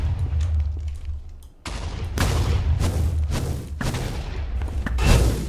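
The Chaos Guardian fires at the player in a video game, a rapid series of punchy gunfire-like bursts and thuds in quick succession, loud and near, with no talk over them.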